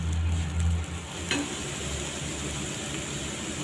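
Sugar melts with grated coconut in a pan over a low flame for coconut burfi, giving a steady soft sizzle with a faint stirring scrape and one brief click, with no talking.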